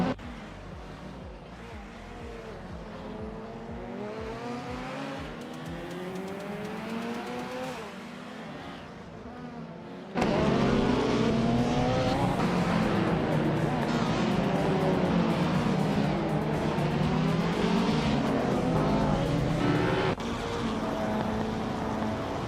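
Race cars in a video game roar past in layered engine whines that rise and fall as they accelerate and shift, steady and fairly loud throughout, with a sudden jump in intensity midway.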